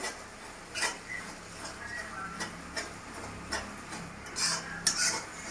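A spoon stirring chicken masala with tomato in a pan, giving a soft background sizzle broken by repeated clinks and scrapes of metal against the pan at an uneven pace.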